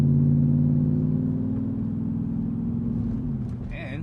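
A Lexus GX470 engine idles steadily with a smooth, low, close rumble that holds through the whole stretch. A voice talks briefly over it near the end.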